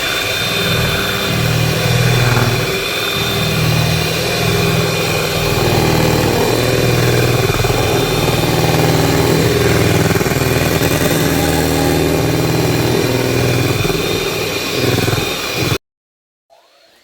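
A blender whips cream into butter with a loud, steady motor roar that drones without a break for about sixteen seconds, then cuts off abruptly.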